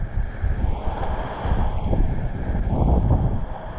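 Strong seaside wind buffets the microphone at a fishing spot with rough waves, a steady loud low rumble swelling and easing over several seconds with no talking.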